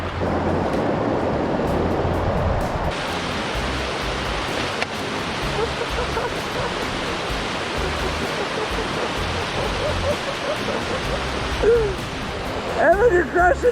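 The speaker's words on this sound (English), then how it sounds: "We gotta make it across this river." River water rushes and churns loudly and steadily throughout as dirt bikes cross a river, the broad roar filling the scene with no clear break.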